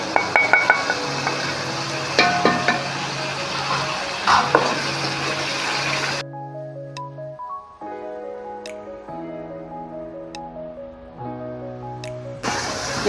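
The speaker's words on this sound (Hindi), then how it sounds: "हमारा मसाला भून चुका है अच्छी तरह से।" Masala of crushed chilli, salt and turmeric frying in a pan for chicken spice macaroni, heard as a close hissing sizzle with stirring scrapes for about six seconds before it cuts to melodic background music.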